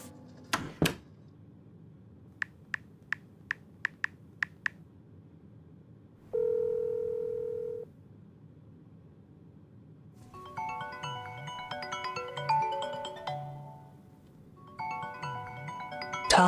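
A telephone keypad dials in a fast run of short beeps after a few clicks. A single long ring tone follows, then further electronic tones sound against a quiet room background.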